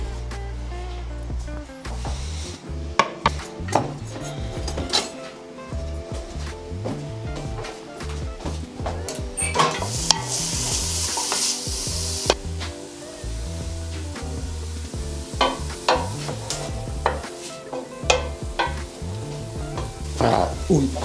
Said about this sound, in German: jetzt braucht es geile Speckwürfel und mit dem kann ich das Zeug nämlich gerade alles anbraten